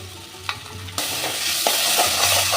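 Spice paste of ground cumin, coriander, Kashmiri chilli, melon seeds and raisins is frying with tomato in a pan, giving a steady close sizzle broken by scraping stirs.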